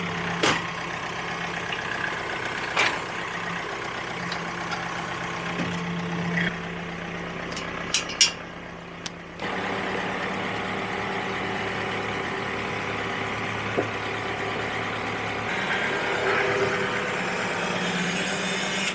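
A tractor engine idles outdoors in a wooded driveway, a steady low drone that runs the whole time with a few brief knocks and clicks and a short dip in the middle.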